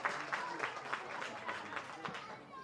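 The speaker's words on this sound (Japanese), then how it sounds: "サポーターからは拍手が送られます。" Supporters at a women's football match at Ehime Prefectural Sports Park stadium applaud from the stands, a distant, steady patter of scattered clapping spread across the crowd, faint and continuous with a commentator talking over it.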